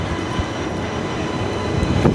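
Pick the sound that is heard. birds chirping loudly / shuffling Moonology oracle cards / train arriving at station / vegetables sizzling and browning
train arriving at station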